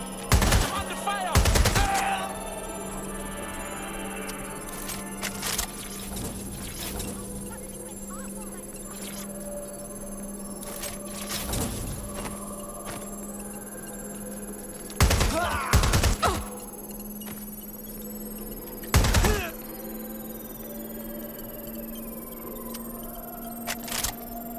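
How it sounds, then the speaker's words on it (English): Gunfire in Watch Dogs Legion comes as sharp, loud bursts of shots spread across the stretch, between them a steady hum and scattered game sounds, with voices talking at times. "I'm under fire!"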